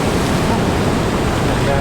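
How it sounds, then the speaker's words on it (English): Ocean waves breaking at Turimetta Beach, a loud, continuous wash of surf and spray close by, mixed with wind noise on the microphone, with a voice speaking briefly. "I just got properly drenched by the waves"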